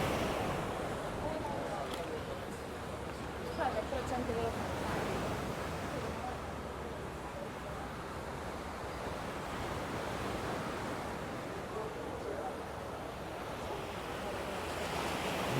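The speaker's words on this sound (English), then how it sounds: "You always get a bit of a wave when the ferry has come in." Waves wash against the shore at Playa Blanca after a ferry's arrival, a steady rushing surf mixed with wind noise on the microphone, continuous and moderately loud.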